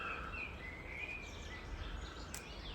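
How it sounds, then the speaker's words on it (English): Birds sing at sunset beside a campfire near Zermatt in the Swiss Alps, their thin whistled phrases faint and distant above a steady low rumble of background noise. "listening to the birds"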